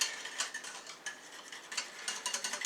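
Custard thickening with corn flour in a pan over a very low flame, a whisk scraping and ticking lightly against the pan in quick, soft, irregular strokes.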